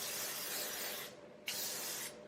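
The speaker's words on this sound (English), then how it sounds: "So just spray it all over." Two bursts of MOROCCANOIL Protect Defense heat protectant sprayed onto hair, a long close hiss followed after a short pause by a second shorter one, quiet and alone.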